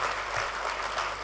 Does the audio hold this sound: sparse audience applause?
yes